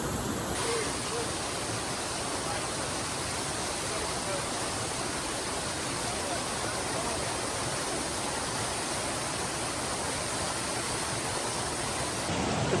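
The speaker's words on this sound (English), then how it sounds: "To be able to put yourself right in the middle of a waterfall and it's cascading water and stuff." A waterfall near Cheaha State Park, Alabama roars as a continuous broadband rush of cascading water, loud and close, drowning out everything else for the whole stretch.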